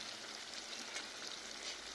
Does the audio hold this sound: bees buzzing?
no